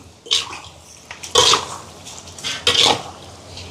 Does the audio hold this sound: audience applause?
no